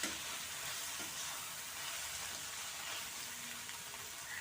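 A spicy country-egg omelette mixture, salted and stirred, sautés in a hot pan, giving an even, continuous sizzle that stays fairly quiet and unbroken, with no voices.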